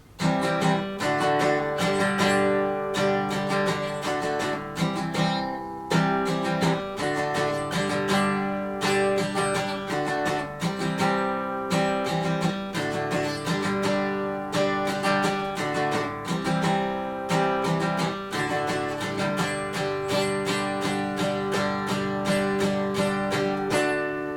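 A strummed guitar plays the chorus of a song with steady rhythmic down-up strokes, continuous chords at moderate volume and no voices.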